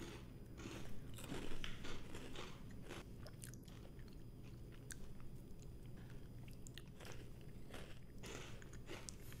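Close, crisp crunching from someone chewing salty mini mochi rice nuggets, with irregular bites over a steady low background hum and no talking.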